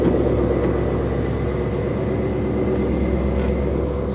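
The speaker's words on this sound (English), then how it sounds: "defaults to quiet mode, so that wasn't that loud of a startup" A supercharged 800-horsepower 2021 Ford Mustang GT running in quiet exhaust mode after startup, a steady low, throbbing idle rumble that holds evenly and close.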